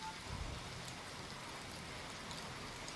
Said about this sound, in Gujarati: લાઠીમાં ભારે પવન સાથે ધોધમાર વરસાદની શરૂઆત થઈ